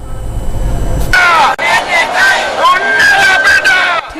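A crowd of protesting teachers and principals in Colombo shouts and cheers together, a loud, dense mass of overlapping voices with rising whoops, close and continuous after a brief rumbling start.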